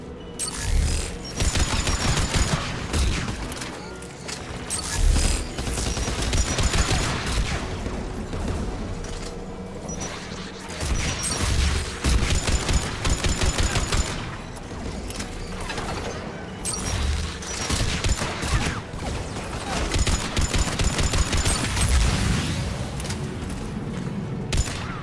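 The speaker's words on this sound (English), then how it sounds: "Geth anti-aircraft guns are up ahead." Geth anti-aircraft guns fire in Mass Effect 3, a loud, dense stream of rapid mechanical bursts and clanking that continues through the whole stretch with slight swells and lulls.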